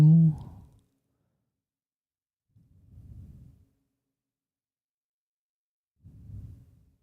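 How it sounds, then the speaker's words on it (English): Close, slow breathing into a microphone: a short loud exhale, then two soft, low breaths spaced a few seconds apart, with silence in between. "oh, you can hear me breathing"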